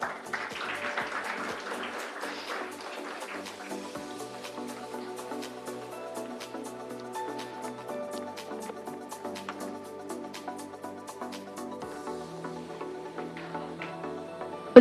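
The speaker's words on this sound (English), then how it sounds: "A round of applause for the gentlemen" Audience at an architecture awards ceremony applauding as presenters are called on stage, steady sustained clapping throughout, with some music or voices faintly underneath.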